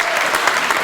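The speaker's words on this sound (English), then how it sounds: "let's give everyone who's showing up tonight, including yourselves, a big old round of applause right away" A brief burst of dense audience applause at a community holiday arts show, a steady wash of many hands clapping together.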